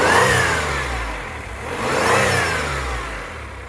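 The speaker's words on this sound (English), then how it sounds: "Give it a rev." A 1989 Acura Legend coupe's engine revved twice, rising and falling in smooth surges over a steady mid-pitched idle, heard close with no talking.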